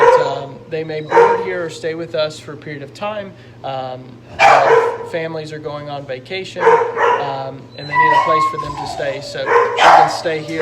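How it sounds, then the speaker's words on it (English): Dogs bark and yip intermittently in the boarding kennel of a veterinary animal hospital, sharp calls mixed in under a person talking continuously nearby. "as you can hear some of the dogs barking now"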